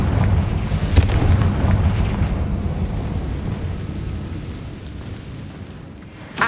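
A Confringo fire curse from Hogwarts Legacy bursts with a loud boom near the start, followed by a sustained rumbling roar that slowly fades, with a small burst at the end.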